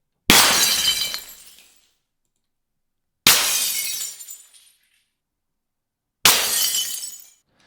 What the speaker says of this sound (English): the glass smash sounds are like this